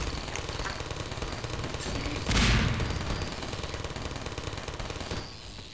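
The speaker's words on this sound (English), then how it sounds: "I'm gonna shoot here." Rapid automatic gunfire in the video game Half-Life 2: Episode 2 rattles continuously at a steady, dense rhythm, with a heavier blast near the middle, loud and without talk.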